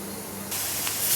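Bombay duck fish frying in a pan, a soft hiss that jumps to a louder, brighter spray-like sizzle halfway through and keeps building to the end.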